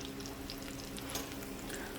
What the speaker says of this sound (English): You see that sizzle?